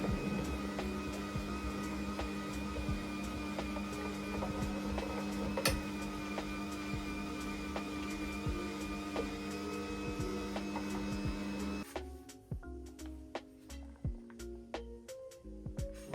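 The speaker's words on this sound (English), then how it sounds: "We are now going to shred some cheese." Ninja 3-in-1 juicer motor whirring steadily while shredding a block of cheese, a close, even hum with faint rattles, then cutting off into sparse ticks and clicks.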